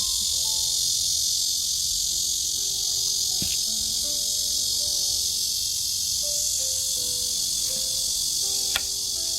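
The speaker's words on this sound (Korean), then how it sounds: "이거 매미 소리나?" A continuous high-pitched cicada drone fills the background, shrill and steady throughout, with faint scattered tones and knocks underneath.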